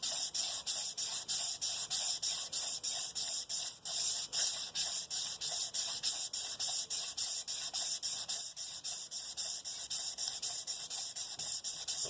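A crankshaft is polished by hand, rotated back and forth with WD-40 applied, giving a steady, rhythmic rasping rub that repeats in even strokes, close and continuous with no talking.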